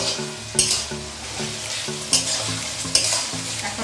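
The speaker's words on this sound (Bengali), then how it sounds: "তারপর এই তেলের মধ্যে আলুগুলোকে ভাজবো" Potatoes fry in oil for biryani, with a continuous sizzle and periodic sharp scrapes and clinks of stirring at a few spaced moments, plus faint tonal background sound.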